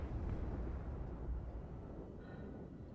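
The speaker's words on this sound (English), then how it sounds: "I believe that was my torpedo" A torpedo from an Anvil Gladiator ship explodes in the space game Star Citizen: a deep, rumbling boom that starts loud and fades over a few seconds, with a faint electronic tone near the end.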